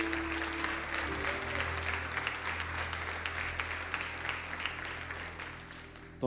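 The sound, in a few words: church congregation applauding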